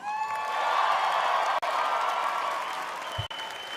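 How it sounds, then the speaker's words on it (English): A large audience at the Miss USA preliminary pageant applauds in a dense, sustained wash of clapping with scattered cheers, loud and continuous from start to finish. "So let's hear all that applause tonight."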